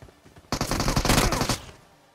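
UMP submachine gun fire in a battle royale video game, a single rapid automatic burst lasting about a second, loud and close, with no talk over it.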